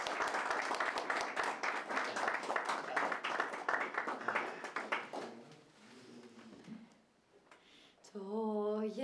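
A studio audience on a Greek TV show claps for a singer, dense rhythmic applause for about five seconds that thins and fades into quiet, followed by a brief tonal sound at the end.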